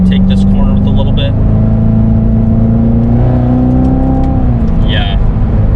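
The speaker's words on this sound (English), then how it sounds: "if I downshift and kind of take this corner with a little bit" A 2016 Corvette C7 Z06 engine drones and climbs in pitch as it revs through a downshift into a corner, heard from inside the car with a voice talking over it.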